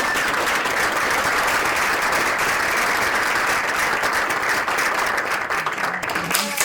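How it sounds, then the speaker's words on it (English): A crowd at a local election candidates' debate claps steadily in a thick, even wash of applause that holds for several seconds before thinning, with faint voices surfacing near the end. "You can clap now, guys."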